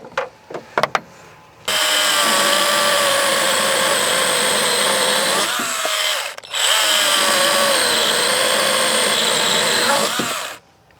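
A Milwaukee M18 FUEL Hatchet cordless chainsaw whines loudly and steadily as it cuts through wood, dipping briefly mid-cut before revving back up, with a few knocks before it starts and an abrupt stop at the end.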